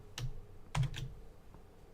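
Keys on a computer keyboard are pressed for a Control, Windows, Shift, H shortcut: a quick click, then a tight cluster of two or three clacks, close and clean with no talk.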